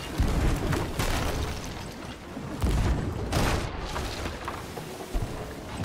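Continuous roar of repeated blunderbomb explosions in a video game, dense and loud, with heavy low-end thumps bursting every second or so in a chaotic battle.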